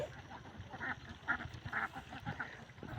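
Ducks quack in a few short bursts at moderate distance among farm fowl in an outdoor rural setting near a beach area, with no talk over them.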